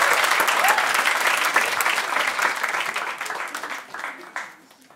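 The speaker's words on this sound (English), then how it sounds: "Give big round applause for her." Audience applause at a comedy show, a dense burst of clapping close by that holds steady for a few seconds and then thins out and fades.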